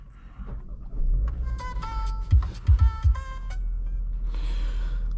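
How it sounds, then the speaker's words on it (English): A 2026 Kia Sportage 1.6 T-GDI engine cranks with a few low thumping turns, then catches and settles into a steady idling rumble, accompanied by electronic chimes. "let's start the engine"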